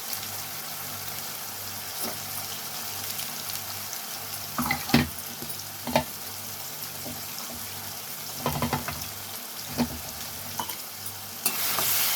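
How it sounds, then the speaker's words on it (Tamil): Ground masala sautés with fennel seeds in a pan for quail chilli fry, a soft steady sizzle punctuated by occasional spoon scrapes and knocks. "இப்போ நம்ம வந்து அரைச்சி வச்ச மசாலாவை சேர்த்து வதக்கிக்கலாம்"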